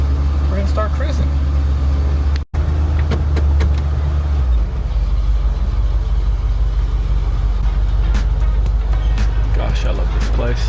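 A car cruising along the I-10 highway on a long Route 66 road trip: a steady, loud road and engine drone inside the cabin, with a brief dropout early on.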